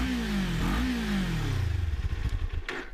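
A 2019-on Kawasaki Ninja 400 motorcycle heard up close at its large exhaust pipe, the engine blipping and revving before settling into a loud, throbbing idle, with no voices.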